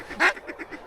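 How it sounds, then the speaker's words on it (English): Ducks quack during a duck hunt, one loud close call followed by a rhythmic series of softer quacks, heard alone without speech. "Ducks right here."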